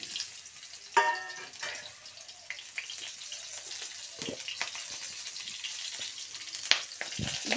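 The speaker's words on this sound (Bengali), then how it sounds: "দেখো আলুগুলো দিয়ে দিচ্ছি কড়াইয়ে।" Potato pieces hit hot mustard oil in a wok for a mutton curry, giving a steady close sizzle with a few sharp spatters and stirring scrapes throughout.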